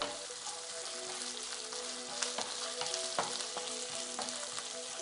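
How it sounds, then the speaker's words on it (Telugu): Ginger garlic paste frying in a pan for a village-style prawn fry, a faint, steady crackling sizzle with scattered pops and light stirring, no voices. "జింజర్ గార్లిక్ పేస్ట్ వేస్తున్నాను."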